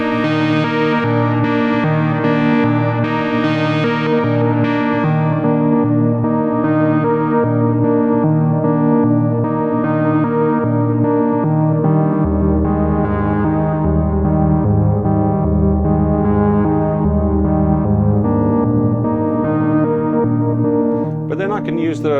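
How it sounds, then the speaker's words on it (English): A Dreadbox Typhon synth patch pulses with step sequencers modulating both oscillators, producing a continuous rhythmic stepping tone whose bass pattern shifts midway, loud and unaccompanied. "It's modulating both of the oscillators with step sequencers at the same"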